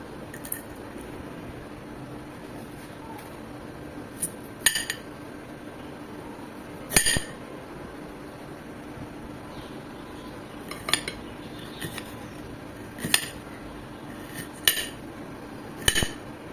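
A kitchen knife slices chillies into thin rounds for a Kashmiri mango pickle, giving sparse, faint taps and clicks on a board at irregular intervals over a quiet background.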